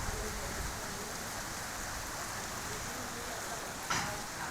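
Heavy rain falling in Lahore, a dense steady wash of drops that stays constant and close throughout, with a brief louder splash toward the end.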